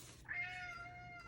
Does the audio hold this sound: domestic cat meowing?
yes